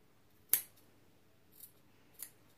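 Scissors cutting fabric for a women's coat: one sharp close snip followed by two softer snips, spaced apart in an otherwise quiet room.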